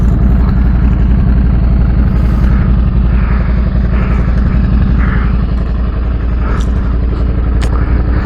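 Adventure motorcycle engine idling with a rich-running exhaust, a loud, steady low rumble with even pulsing and no change in revs, heard close up without talk.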